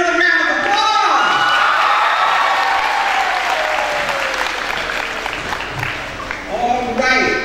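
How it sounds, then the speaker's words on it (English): Applause from an audience at a girls' leadership summit for a person named Freedom, a dense, steady wash of clapping that stays loud for the whole stretch, with shouts and chatter mixed in and a brief lull just before the end. "Let's give Freedom another round of applause."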